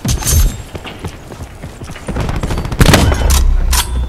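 Gunfire in a Call of Duty Black Ops 4 match, sniper rifle among the weapons, with several sharp loud cracks and bursts spread irregularly through busy battle noise, including a heavy blast near the middle.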